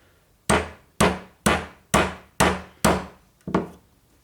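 Hammer tapping a socket into an MGB three-synchro gearbox during assembly, seven sharp metallic blows at an even rhythm about half a second apart, close and loud with no talk.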